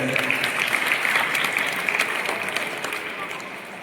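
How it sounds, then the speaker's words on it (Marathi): An audience claps at a Hindu community gathering in a village, a steady wash of applause held throughout, with a voice faintly underneath. "छान, टाळी वाजवायला तुम्ही."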